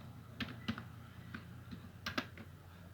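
Scattered keystrokes on a computer keyboard, a handful of quick clicks in small clusters, close and quiet against a faint background hum.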